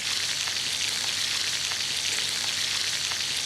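Chops sear in a frying pan with a steady, close sizzle and scattered crackling pops that continue evenly throughout, with no voices.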